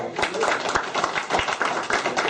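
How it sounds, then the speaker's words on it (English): A meeting audience applauds committee members with a short burst of hand clapping, fairly close and lively, with voices mixed into the clapping. "I think we ought to give them a round of applause."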